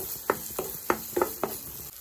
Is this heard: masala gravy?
yes